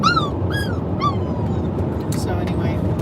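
Several strong puppies whimper nearby, a few high, thin rising whines in quick succession at the start, then softer yips over a steady background hum.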